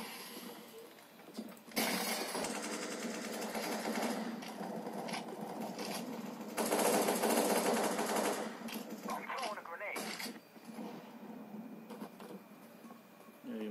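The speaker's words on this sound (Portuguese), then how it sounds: "O cara fica atirando neles mesmo" Automatic gunfire rattles in Counter-Strike: Global Offensive, with long rapid bursts, separate sharp shots and pauses between volleys, and people talking underneath.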